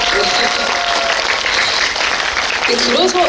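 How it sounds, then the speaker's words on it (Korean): Audience applause at a Lotte Cinema star event honoring an actor: dense, loud clapping filling the room continuously, with brief voices and crowd noise mixed in near the end. "그 조인성한테 좀 박수 좀 부탁드려야 될 것 같은데요"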